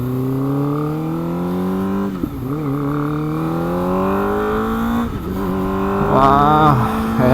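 A modified Kawasaki ZX25R motorcycle on carbon parts and big-bike suspension revs hard while riding, its high-pitched four-cylinder wail climbing through the gears with brief drops at each shift, loud and close.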